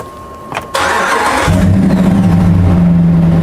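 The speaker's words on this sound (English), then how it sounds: "So let me start the truck." A RAM truck engine cranks briefly, catches and settles into a steady, loud idle with a low rumble.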